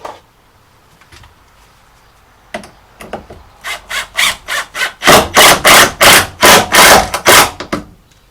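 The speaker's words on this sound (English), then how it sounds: "I'm going to use my clamp here to squeeze it in to place" A tongue-and-groove wooden ceiling board in a van being forced into place with a clamp, heard as a few scattered creaks that build into a loud, rhythmic run of squeaky wood-on-wood rubbing strokes, close up.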